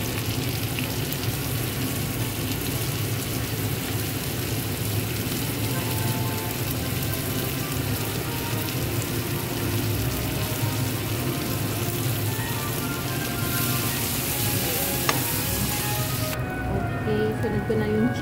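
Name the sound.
garlic and onion frying in a pan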